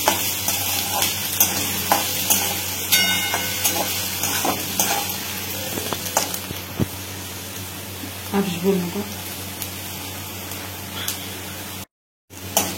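Onion fries and crackles in a pan while being stirred, with steady sizzling, scraping spoon strokes and occasional clinks of utensils, and someone talks at times over the cooking.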